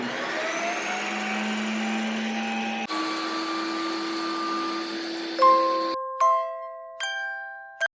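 A blender-style ice cream machine whirs steadily as it spins a frozen banana mix, the motor tone shifting partway through before the whirring stops and a few sharp chimes ring out near the end.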